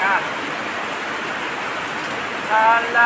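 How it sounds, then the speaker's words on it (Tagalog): Steady broadband hiss of heavy rain falling, continuous and even, with a brief faint chirp near the start and end. "ulan ulan gikan sa kalangitan mibunok ang ulan"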